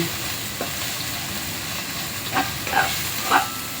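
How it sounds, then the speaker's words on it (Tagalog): Dried anchovies (ikan bilis) fry and crackle in a pan, a soft steady sizzle with a few brief pops and stirring scrapes near the end. "Luto muna natin itong ikan bilis para maging crunchy"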